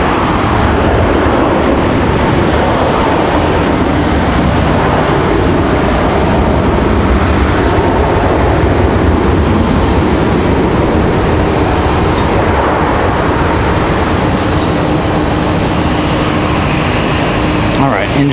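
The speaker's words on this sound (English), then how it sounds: "enjoy the 777 departure" A Boeing 777 departing Raleigh-Durham International sends out a loud, continuous, broad engine roar that holds steady for the whole stretch, close and powerful.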